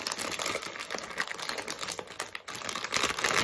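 Hands work at a plastic mochi package, producing continuous crinkling and crackling of thin wrapping with small ticking snaps, close and fairly quiet, without any voices.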